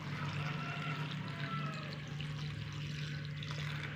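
Water runs steadily into a bowl of salted, cut bitter gourd in a home kitchen, a soft continuous pouring and trickling under a low background hum, with no talk.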